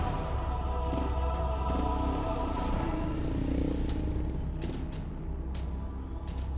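A motorcycle engine drones steadily at close range, with dense low rumble and occasional clatter, no voices over it.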